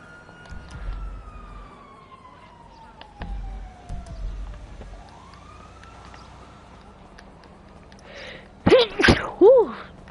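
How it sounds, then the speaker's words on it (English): A person sneezes loudly and close up near the end, two sharp bursts after a long stretch with a siren wailing in the distance. "I sneezed"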